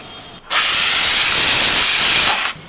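A pressure cooker releasing steam after seven or eight whistles while cooking mutton, with a loud, sharp hiss that bursts on, holds steady for about two seconds, then cuts off abruptly.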